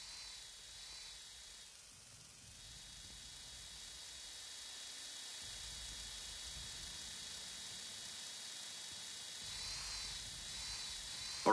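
An air-conditioning fan inside a vent in the game Mindseye gives off a steady, faint hiss and whir that slowly grows a little louder over the whole stretch, with no voices.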